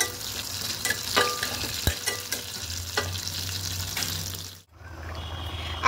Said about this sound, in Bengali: এবার ফোড়নটা হালকা ভাজা ভাজা করে নেব।